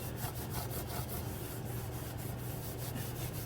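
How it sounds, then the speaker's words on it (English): Shop rags wipe leftover RTV gunk off the 8.8 rear differential cover of a 2013 Mustang V6 with steady, rhythmic rubbing strokes, close and quiet. "I'm gonna go through it with a couple shop rags and make sure all that extra gunk and all that extra shit is off"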